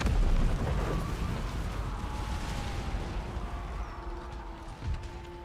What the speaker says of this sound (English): On Bengal infantry, give them a volley.